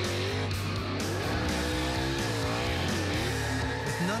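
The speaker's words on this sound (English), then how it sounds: "At its heart is a V8 pumping out massive horsepower." A Ford Fusion NASCAR stock car, the Fastenal 99, with a V8 engine, roars continuously and loudly at speed, its engine pitch rising and falling through gear changes.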